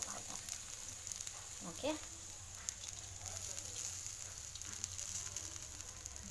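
Tomato and fenugreek leaves sautéing in a pan, a steady close sizzle with occasional scrapes and clinks of a spoon, a brief word spoken over it.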